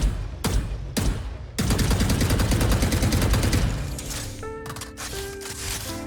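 A few sharp, separate gunshots from Valorant skins such as RGX and Overdrive ring out, then quicker shots follow in a dense, loud volley before trailing off with metallic clicks.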